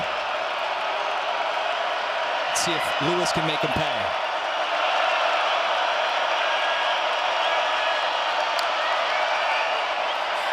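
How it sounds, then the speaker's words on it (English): A steady roar from a stadium crowd at an NCAA Football 2025 game between Memphis and East Carolina carries on under a play-by-play commentator's voice. "Listen to the crowd. The crowd's starting to get into it."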